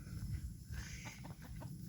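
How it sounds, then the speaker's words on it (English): Backyard chickens, including Cinnamon Queen and barred rock hens, cluck in short soft bursts over steady low outdoor rumble, fairly quiet and close. "we just came out here to go check on the chickens"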